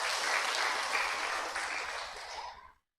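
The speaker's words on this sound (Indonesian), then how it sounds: "Tepuk tangan buat dia itu." Church congregation at a Toraja service applauding together, a dense, steady wash of clapping that holds for over two seconds before tapering off and stopping abruptly.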